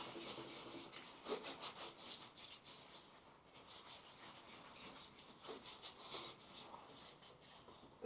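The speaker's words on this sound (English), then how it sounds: "And as I'm face lathering" Face lathering with a shaving brush and Tabac Original shaving soap, a steady close brushy scrubbing with rhythmic swishes that rise and fall continuously, no talking.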